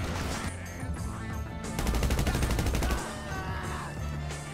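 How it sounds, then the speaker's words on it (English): Revolver fire rings out in the video game Red Dead Redemption 2 as a dense, loud burst of rapid gunshots that peaks midway, set within ongoing game noise. "We managed to get 50 headshots with the revolver pistol"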